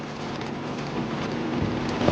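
Heavy rain driven by strong wind during a tornado, a steady dense hiss with no breaks, growing slightly louder toward the end, with no talk.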